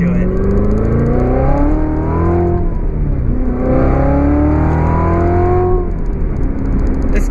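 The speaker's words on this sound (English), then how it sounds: "it's just an incredible sounding exhaust" A loud Corvette Z06 with an Armytrix exhaust revs and roars steadily, rising and falling in pitch through two long pulls, with a deep rumbling drone underneath.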